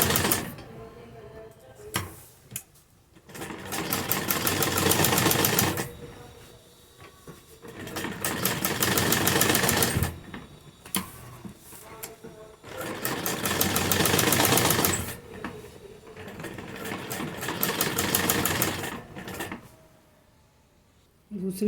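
Sewing machine stitching a salwar, working in four long bursts of dense, rapid stitching chatter separated by short quiet pauses with faint handling sounds, close and loud.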